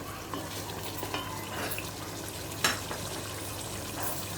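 Beef tongue stir-fried with sour yogurt in a pan for a bhuna dish. A steady, close sizzle runs throughout, with the occasional clink or stir of the spoon and no talking.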